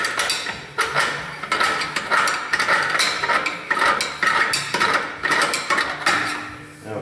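Metallic clinking and ratcheting as the brake adjuster on a Suzuki XL7 disc brake is spun by hand, a steady run of close, sharp ticks and clinks lasting several seconds with no talk.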